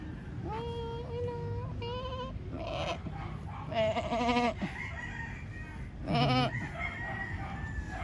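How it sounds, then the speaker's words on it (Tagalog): Several goats bleat in wavering, quavering calls over a constant rustling outdoor background at a riverside park, with a rooster-like cry mixed among them. "Ito po ano silang kambing."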